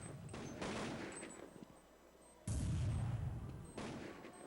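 Counter-Strike gunfire in a pro esports match, dense overlapping shots and bursts that run steadily throughout, with a louder volley partway through, all at a moderate level.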